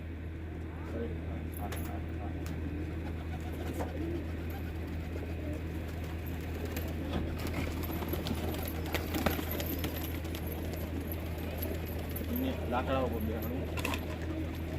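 Pigeons coo and flutter faintly amid a steady low hum and scattered outdoor clatter, with a person talking intermittently over it.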